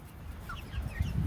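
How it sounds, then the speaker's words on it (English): Farm chickens called to their coop cluck softly in short, scattered bursts, close by and faint, over steady wind noise. "Come on, birdies."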